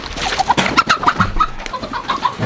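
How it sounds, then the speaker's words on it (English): A chicken clucks and squawks repeatedly while people chase and catch it outdoors on a homestead, with agitated calls spread across the moment and some scuffling movement beneath them. "Catch that chicken no matter what."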